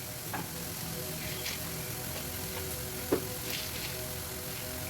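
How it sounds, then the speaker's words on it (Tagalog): Chopped onions sizzle and fry in oil in a pan, a steady close crackling hiss with a few faint clicks of stirring throughout. "Dagdagan natin ng konting oil. So, hayaan natin maluto konti yung sibuyas."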